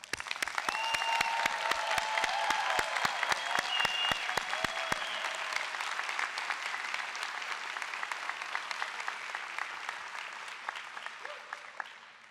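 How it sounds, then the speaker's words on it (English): A large audience at the University of Texas College of Architecture + Design commencement gives the graduates sustained applause. The clapping is dense and steady, and a few sharp nearby claps stand out early before the sound evens into a continuous wash. "Please give our graduates one final round of applause."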